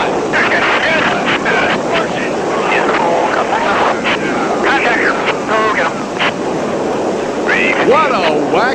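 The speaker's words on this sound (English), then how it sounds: "the aircraft executes a 6G maneuver" A Blue Angels jet pulls a 6G maneuver, its loud continuous roar and wind rush running throughout, with a voice talking over it.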